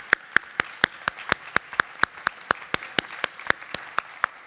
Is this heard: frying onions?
no